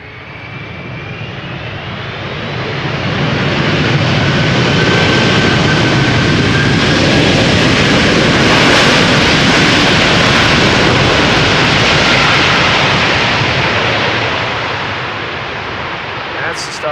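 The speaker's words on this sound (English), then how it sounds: "Delta Airlines, in the meantime, touching down, arriving from Detroit." A Delta Airlines jet arriving from Detroit touches down at Schiphol's Polderbaan runway, a broad, steady roar of engines swelling over several seconds, holding loud, then easing slightly as the aircraft passes.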